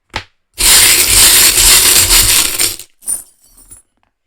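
Small charms cast for a divination reading, a burst of jingling, clattering metal and glass pieces tumbling together for about two seconds, then a short second rattle, close and loud.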